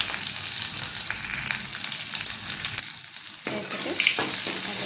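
Onion, green chilli and dried red chilli fry in a pan with a bright, continuous sizzle, accompanied by intermittent stirring clatter and a brief quieter patch midway; no speech.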